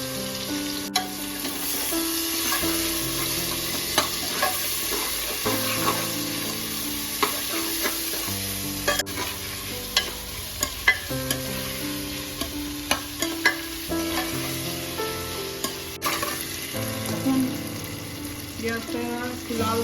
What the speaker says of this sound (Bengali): কুচানো পেঁয়াজ, এতে প্রায় 200 গ্রামের মতো কুচানো পেঁয়াজ আছে,